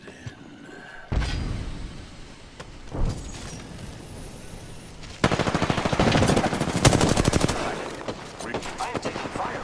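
Automatic weapon fire in the battle royale game Apex Legends crackles in bursts, with a sharp shot, a short volley, then a long sustained rapid-fire stream, loud and close with brief pauses.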